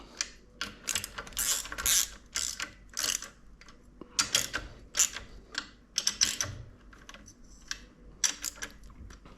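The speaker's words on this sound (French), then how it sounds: "Donc 4 écrous de 10 qu'on va serrer en croix progressivement." Four 10 mm nuts tightened in a cross pattern on an MBK Stunt moped, a close series of quick ratchet clicks in uneven bursts with short pauses between, no talk.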